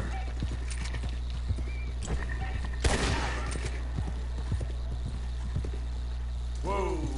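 Horse hooves clip-clop steadily while riding in the video game Red Dead Redemption 2, with a whinny near the end and occasional gunfire bursts, under quiet talk.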